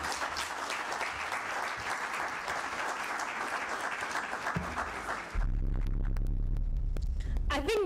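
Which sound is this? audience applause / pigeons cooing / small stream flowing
audience applause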